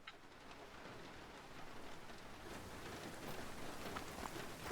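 Rain falls in the hunting video game theHunter: Call of the Wild as a faint, steady hiss of drops that grows slightly over a few seconds, with no voices.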